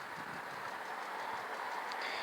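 A train rolls past a level crossing at Star Lane, a steady, fairly faint broadband rumble and rushing noise with no clear rhythm, heard alone for a couple of seconds.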